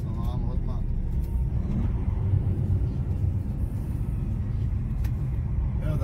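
A Scania truck drives into a roundabout, its engine a steady, loud, low rumble throughout, with a voice talking over it.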